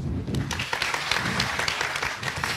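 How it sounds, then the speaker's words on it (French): An audience applauds as group members are introduced one by one, giving a steady wash of clapping of moderate loudness that continues throughout the short stretch. "sous vos applaudissements."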